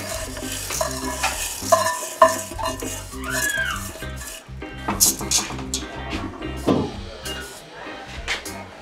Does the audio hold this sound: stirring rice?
yes